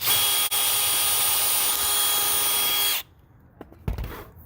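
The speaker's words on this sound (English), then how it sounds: "I know that that's not a metal bit, and I'm going initially through metal, but come on, it's so thin" Power drill with a non-metal bit boring through the thin metal of a chicken coop door, a loud continuous whine for about three seconds that stops abruptly, leaving faint handling noises.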